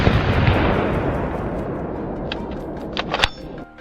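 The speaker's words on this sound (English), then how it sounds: "Without flinching, I aimed and shot one immediately." A rifle shot fired while hunting wild boar in lowland country, a loud broadband blast with a long rumbling decay, followed near the end by a few sharper cracks or pops.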